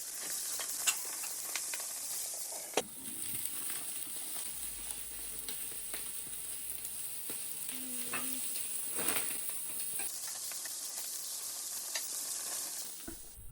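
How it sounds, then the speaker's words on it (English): Lamb sizzles steadily on a Weber Q gas grill, a constant close hiss of fat and juices with faint crackles, heard alone with no talk. "we placed the lamb on, flipping it over halfway through so both sides got 2 minutes of cook time."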